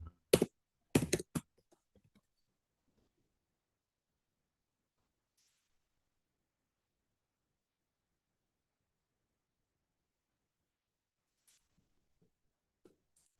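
Two short bursts of quick keypresses on a computer keyboard, close and crisp, followed by long near-silence and a couple of faint stray clicks.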